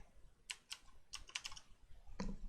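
Quick clusters of key clicks from a computer keyboard as text is typed in Photoshop, close and crisp in short bursts with pauses between, no talking.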